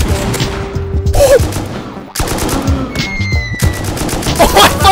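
Grenade launcher fire amid a fierce gunfight in the video game Rust, on a large oil rig: loud rapid bursts of shots and booming impacts crowd together over five seconds, with clicks and tonal game sounds mixed in.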